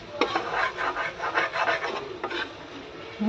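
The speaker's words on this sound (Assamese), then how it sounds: "কেৰাহী চাইডত লাগি থকাবিলাক এৰুৱাই দিছোঁ ধুনীয়াকৈ" A spatula scrapes stuck kalakand mixture off the sides of a wok at home, giving steady rasping strokes that repeat in a loose rhythm, close and fairly loud, with no talking.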